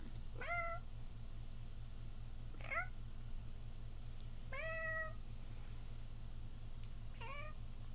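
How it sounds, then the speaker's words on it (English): Four separate meows at steady intervals, fairly clear over a constant low mechanical hum, with no talking. "Did y'all know cats meowing is them mimicking humans?"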